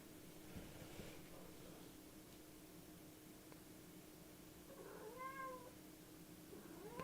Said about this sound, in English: Now my cat's yelling at me